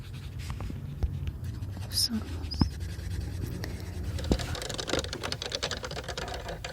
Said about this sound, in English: Hear my hand going up the page. I'm drawing circles.